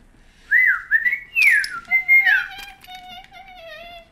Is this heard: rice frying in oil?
no